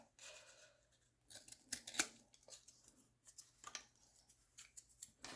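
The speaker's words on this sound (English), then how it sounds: "Let me cut a little piece." Scissors snip a small piece of paper up close, giving a series of quiet, crisp cuts and rustles in an otherwise hushed room.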